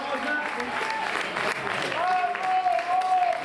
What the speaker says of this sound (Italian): Eccolo qua, applausi per Stefano La Rosa, sempre più solo, sempre più davanti a tutti